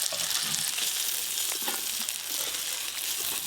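Shrimp frying in hot oil, a steady dense sizzle filling the whole clip, close and even, with a few faint stirring touches.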